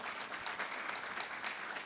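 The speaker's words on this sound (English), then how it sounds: "So please give a huge round of applause for yourselves." An audience at an Engineers Day celebration at a power plant gives sustained applause, a thick continuous patter of many hands, heard faintly and from a distance without speech.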